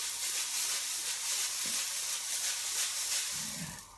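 Food fries in a hot pan for beef and noodles, a steady close hiss and sizzle running throughout with a couple of brief clatters near the end.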